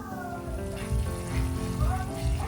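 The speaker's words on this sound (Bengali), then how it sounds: "মশলাটাকে ভালো করে কষিয়ে নেব" Spice paste with sour yogurt sautéed and stirred in a pan before fish goes in: a continuous soft sizzle with scraping stir noises and a faint tonal whine running through it, fairly close.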